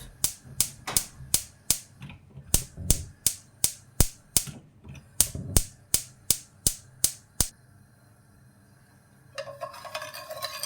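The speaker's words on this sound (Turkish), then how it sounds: "Ocağımızın altını kısık bir şekilde açıyoruz." A gas stove burner's igniter clicks rapidly about twenty times in quick bursts, then catches into a soft, steady hiss of flame turned down low.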